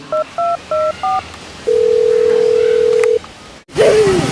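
A phone keypad sounds four short two-tone beeps in quick succession, then a long steady tone follows, before a sharp cut and a brief voice-like sound at the end; clear and close.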